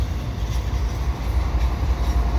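A slow CN double-stack freight train rolls past in St Henri in autumn, a steady low rumble of railcars continuing throughout with no distinct clatter, close and fairly loud.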